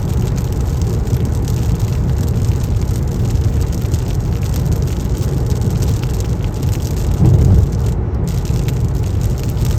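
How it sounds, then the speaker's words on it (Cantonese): Dense, steady roar of heavy rain drumming on a surface, loud and continuous, with a low rumble underneath and no talking. "大雨係重大利好啊！"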